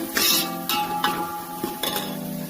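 Coconut, garlic, ginger and coriander being sautéed in oil for a spicy chicken curry, with a spoon scraping and clinking against the pan in a few distinct strokes.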